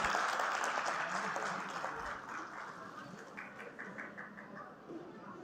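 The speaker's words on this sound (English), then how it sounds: "So give them a big round of applause." Audience applause at a university convocation for a graduating MBA Healthcare Analytics batch, a steady wash of clapping from a large crowd that fades slightly partway through, with faint voices underneath.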